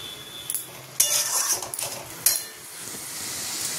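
Spice masala being stirred and fried in a pan for a soya chunk curry, with scraping spoon strokes against the metal and occasional clinks over a steady sizzle, close and moderately loud.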